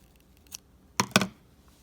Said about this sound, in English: we're going to cut this off